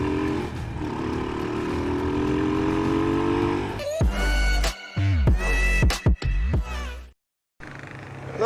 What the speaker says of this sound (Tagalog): Kasi medyo traffic na naman dito mga kuys